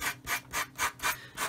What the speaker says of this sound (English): So what I need to do now is take a pretty coarse sanding stick and just sort of